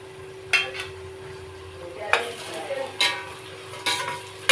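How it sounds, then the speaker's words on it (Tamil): Onions sautéed in a pan for mutton biryani, a few sharp stirring scrapes against the pan over a steady low sizzle and a constant hum. "இது கோல்டன் ப்ரௌன் கலர் ஆற வரைக்கும் நல்லா வதக்கணும்"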